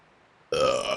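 Following a near-silent moment, a single loud, abrupt burp from a character in a burp compilation bursts in and carries through to the end.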